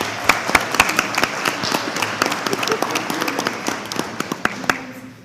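An audience at a school board meeting applauds, a dense burst of close hand claps that gradually thins out to scattered claps.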